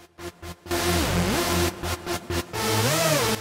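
Solo heavy synth phrase with its transients cut by an Oeksound Spiff plugin: choppy gated stabs open into sustained, pitch-bending harmonic tones, loud and close with no voices.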